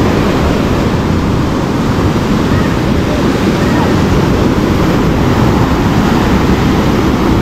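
Ocean waves roll in one after another, making a loud, continuous wash of surf mixed with wind rush on the microphone, with faint voices underneath.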